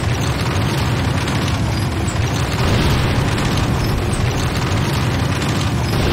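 A Nod structure explodes in the Renegade video game, a loud, sustained rumbling blast with dense low booming that fills the whole stretch without letting up.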